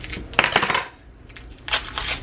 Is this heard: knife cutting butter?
yes